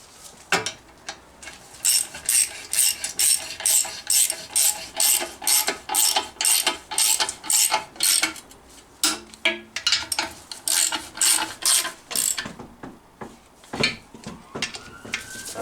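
A ratchet on an extension bar tightens gearbox bolts on a Rover P6 V8, giving rapid loud metallic clicking strokes in repeated bursts, close and unaccompanied by talk.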